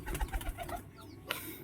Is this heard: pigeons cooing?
yes